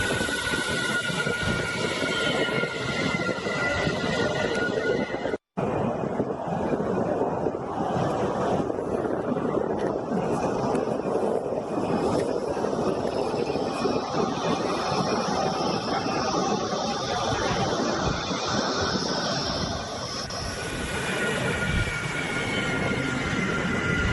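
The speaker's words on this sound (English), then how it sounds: "I'm going to keep quiet for a moment so you can enjoy the audio of this beautiful touchdown" A Rafale fighter jet touching down at Ambala airbase gives a long, loud, steady roar with high whining tones. The roar cuts out for an instant partway through and eases slightly near the end.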